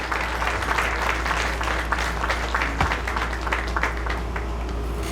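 An audience at a high school athletic awards ceremony gives a round of applause for the boys varsity soccer team: sustained, fairly close clapping from a crowd, with no speech over it.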